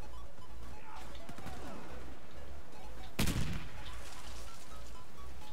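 A Fabarm S.A.T. 8 Pro Gold shotgun fires in Warface on the Hangar map, one loud, sharp blast standing out midway over a low steady game rumble, with fainter shots and clatter around it.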